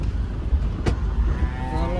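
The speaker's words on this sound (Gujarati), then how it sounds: "ઝાયલો રાઈડ કરવાની." A Mahindra Xylo car drives along an open road, its engine and road noise forming a loud, steady rumble from inside the cabin, with a short whooshing swell partway through.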